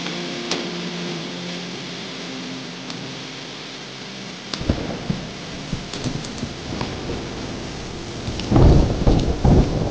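Rain hisses steadily while rumbles of thunder roll in, building into louder, heavier crashes toward the end, with no voices over the storm.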